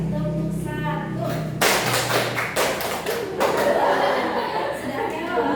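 A classroom group clapping during an ice-breaking game: a sharp, loud burst of hand claps and thuds cuts in after a spoken instruction, with chatter and a chuckle around it.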